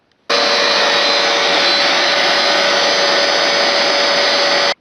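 A carpet cleaner machine runs at full power, a loud, steady roaring whine that starts abruptly, holds constant for about four seconds and cuts off sharply, close by with no voices.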